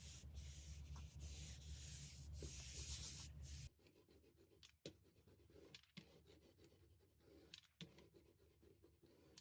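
Paper is rubbed by hand onto a gelli printing plate freshly coated with white acrylic paint, a close, continuous scratchy rasp at first, then quieter, intermittent rubbing strokes.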